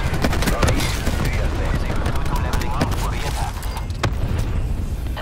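Rapid gunfire in a modern military shooter game, bursts of automatic fire and sharp cracks packed closely together, loud and nearly continuous throughout.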